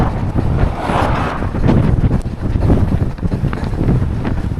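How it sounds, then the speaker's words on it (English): Strong wind buffets the camera microphone outdoors on a long run from Manchester to Liverpool, a loud continuous rumbling roar with gusty surges throughout and no voices. "I wish this wind would fuck off"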